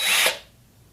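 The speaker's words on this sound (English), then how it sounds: "I've got a Forstner bit" Forstner bit drilling into wood on an assembly table vise, one short bright whirring burst that quickly dies away.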